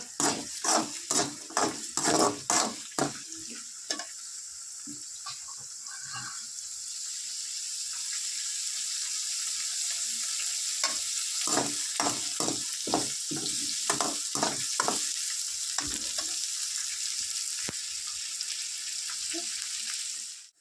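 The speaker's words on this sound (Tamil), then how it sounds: "இப்போ வந்து வெங்காயம் வந்து நல்லா வதங்கி வரட்டும்" Sliced onions sautéing in a pan for pakoda kuzhambu, starting with a run of clattering spoon scrapes, then a steady close sizzle punctuated by more stirring taps.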